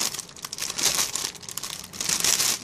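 Thin plastic packaging film from delivery parcels crinkles and rustles near the microphone in a steady run of crackly handling for a few seconds, with no talk.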